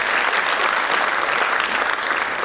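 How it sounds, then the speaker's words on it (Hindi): Dense, steady applause from an audience at a Hindi-language public gathering, loud and continuous from start to finish with no pause. "तालियां थोड़ी कम है, जोर से बजनी चाहिए।"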